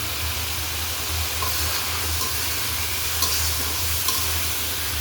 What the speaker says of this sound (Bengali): মাছগুলো ভালোভাবে কষিয়ে নিয়ে নেব।